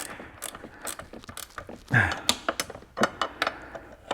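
A ratchet wrench turning a nut on a seat stud in a garage, working on a 1980s Toyota MR2: short bursts of rapid clicking, close and fairly loud, with a few sharper knocks between.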